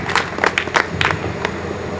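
Scattered hand claps from an audience at a Hindi poetry gathering (kavi sammelan) in Harda, a handful of sharp overlapping claps spread across a couple of seconds over a low murmur of the hall.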